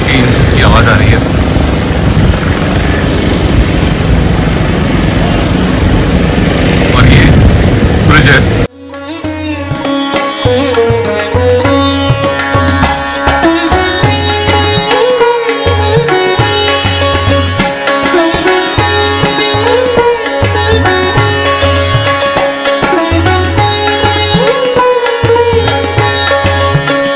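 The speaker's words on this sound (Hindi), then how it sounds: "अभी ये सब मोटर बोट की इंजन की आवाज़ आ रही है।" Motor boat engines drone on the Narmada River near a bridge. A loud, continuous engine roar and wind noise give way to a steady, heavy engine hum that persists throughout.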